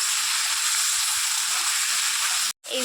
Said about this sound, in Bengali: লতিটা ভালোভাবে নেড়ে চেড়ে একটু ভেজে নেব।